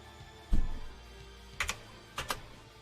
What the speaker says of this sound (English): if you hear me typing, it's me typing in his, like, spell stuff